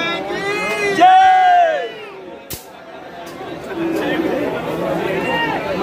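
Crowd of pilgrims at the Banke Bihari temple in Vrindavan during Janmashtami, a dense murmur of chatter and raised voices close by, with a brief loud shout and a sharp knock partway through.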